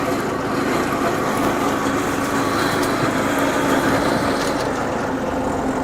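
Lawn mower running over a golf-course-style lawn freshly top-dressed with sand, a steady, fairly loud engine drone that holds constant throughout, with no talk.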